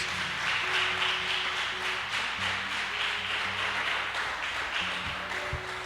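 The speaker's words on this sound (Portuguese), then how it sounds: "Você pode aplaudir ao Senhor em nome de Jesus" Applause from a church congregation during a celebration service with communion, a dense, even patter of many hands clapping over soft sustained keyboard tones in the background.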